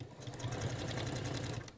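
A sewing machine back tacks at the end of a piped quilt seam, making a steady, close, continuous mechanical whir with rapid needle pulses for about two seconds, with no voice over it.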